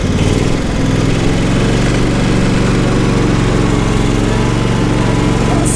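A John Deere SST16 zero-turn lawn mower, an old barn find, runs with its engine revving up under added throttle, a loud, steady close-up drone with a strong low rumble throughout.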